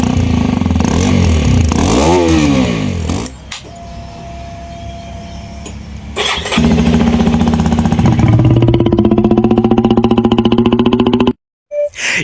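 Loud Hero XPulse 210 motorcycle exhaust up close, shifting between rumbling idle and revving bursts, with a brief cut to silence near the end.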